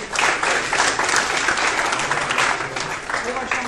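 Audience applause at a school medal ceremony in Edirne for the interschool youth and junior championships, a dense, steady wash of clapping that holds loud for the whole stretch, with voices mixed faintly underneath.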